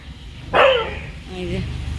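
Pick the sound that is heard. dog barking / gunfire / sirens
dog barking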